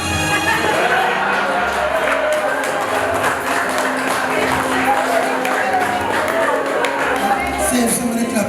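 Audience applause at a memorial celebration of life, a steady wash of clapping filling the room with a voice speaking over it.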